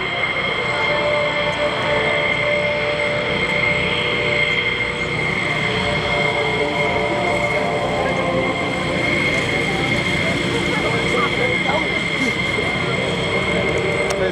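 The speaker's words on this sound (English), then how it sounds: "Major Curtis will break ground, pull 60 degrees into the vertical, and perform a split S, reversing his direction while still over the runway" A USAF Thunderbirds jet at the Alliance air show pulls vertical into a split S, a continuous loud jet roar with a steady engine whine, while an announcer's voice runs over it.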